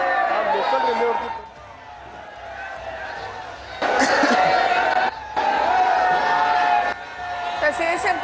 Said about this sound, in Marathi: पाटील पाटील पाटील अशी घोषणाबाजी या ठिकाणी ही करण्यात येते